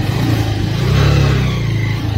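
An RS 200 motorcycle engine revs loud and close, holding a steady, throaty drone that swells and eases slightly, on a snowy, rough mountain road.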